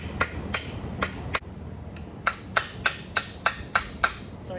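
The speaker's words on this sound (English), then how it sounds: "So I'm gonna take a small chisel, try not to hurt it, and kind of break it." Sharp metallic hammer blows on a small chisel splitting the case of a 1964 Dodge WM300 Power Wagon front axle, about a dozen evenly paced strikes, close and loud, with a short pause after the first few.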